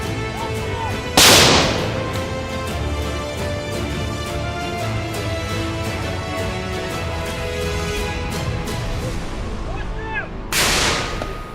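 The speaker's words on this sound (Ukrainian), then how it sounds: "Це 120-й міномет. Міна 120-го калібру, вага приблизно 16 кг." Two heavy booming blasts from a 120 mm mortar firing, about nine seconds apart, each loud and sharp, with a long rumbling echo ringing out between them.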